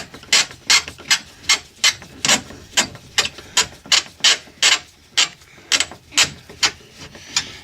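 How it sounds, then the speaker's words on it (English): Torx screw, roughly T25 to T30, being backed out of a police car door: a close, quick series of sharp ratcheting clicks in an uneven rhythm, about twenty bursts, with quiet gaps between and no talk. "You remove that screw."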